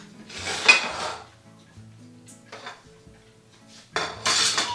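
A utensil scrapes and clinks against a plate while spreading a cream cheese and ricotta filling over a crepe, in a few close, short bursts with quiet gaps between.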